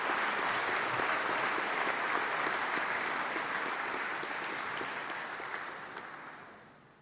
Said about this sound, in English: Please join me in giving a warm round of applause to William Schlick